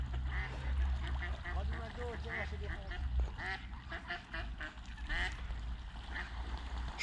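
Ducks quack and squabble in a noisy bunch on a windy lakeside, their harsh calls overlapping in fast bursts while people talk nearby.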